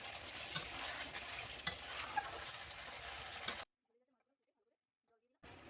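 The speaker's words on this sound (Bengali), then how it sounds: "মশলাটা ভালো করে ফুটে গেছে এবার আমি মাছগুলো দিয়ে দিলাম" Pangas fish simmers in bubbling spice masala with a steady close sizzle and occasional stirring knocks, then cuts to silence before the cooking sound returns briefly.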